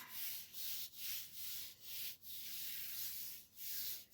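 Quiet, rhythmic rubbing strokes as a stencil is pressed down onto a gel printing plate, about nine soft sweeping passes in steady succession.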